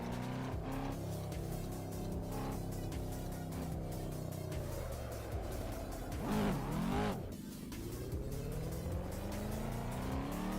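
A Volvo's engine in a driving simulator game hums and shifts pitch through a handbrake U-turn, with a brief rising rev and tire scrub midway, fairly quiet and without voices.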